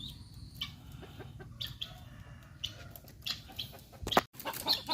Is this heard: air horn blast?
no